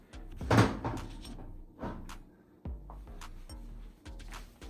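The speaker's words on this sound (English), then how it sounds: "we're gonna go ahead and take the door off the oven" An LG oven door is lifted off its hinges, giving a series of muffled metallic clunks and scrapes, one sharper knock early and several softer thumps, close by with no talking.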